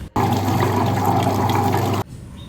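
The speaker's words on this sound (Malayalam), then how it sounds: "ഗ്രൈൻഡറിലേക്ക് കുറച്ച് വെള്ളം ഇട്ടിട്ടൊന്ന് ഇട്ട് കൊടുക്കുക" Water pours in a steady, full stream into a wet grinder for making idli batter. The sound is close and lasts about two seconds, with an abrupt start and stop.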